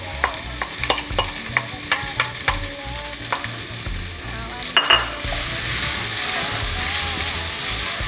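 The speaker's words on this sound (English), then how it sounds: "now that the oil is nice and hot, I'm gonna saute my vegetables for my stamp and go." Vegetables for Jamaican callaloo and codfish fritters sauteing in hot oil: several sharp spoon clatters and stirring scrapes, then a loud continuous sizzle that swells and holds, close up with no voices.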